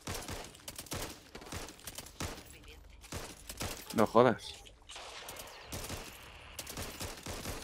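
Rapid bursts of rifle gunfire ring out in the zombie shooter Back 4 Blood, sharp repeated cracks scattered across the scene alongside game effects, while someone briefly speaks.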